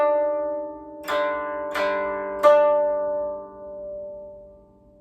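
Three plucked koto strings ring out one after another in an even beat, each note bright and clear with a long, slowly fading sustain, from the beginner Usagi (Rabbit) melody.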